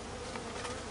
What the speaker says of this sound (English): I'm just going to walk away because I've got a very angry bee here.